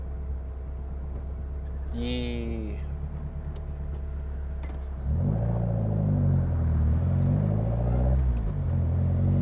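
Kadett GS engine with a Solex C40 ADDHE carburetor on ethanol, idling hot, giving a steady low rumble throughout with someone talking over it; the hum thickens and grows slightly louder partway through.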